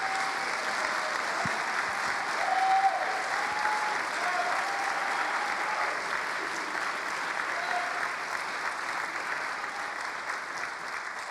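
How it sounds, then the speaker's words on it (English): Sustained crowd applause for guests at a community convocation on nonprofits, broad even clapping filling the room for several seconds, with faint tonal sounds and no clear speech above it. "Let's give a round of applause to our guests."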